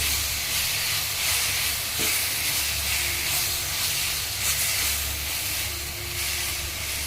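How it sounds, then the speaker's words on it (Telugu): Gongura leaves tossed into a hot pan and stirred, giving a steady, loud steamy hiss and sizzle that runs unbroken throughout, with no talking. "వేసి 2 నిమిషాలు తిప్పాక ఇప్పుడు గోంగూర వేస్తున్నా."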